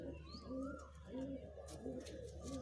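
A pigeon held in the hand gives repeated soft, low coos in a regular rhythm, close up, with faint background noise.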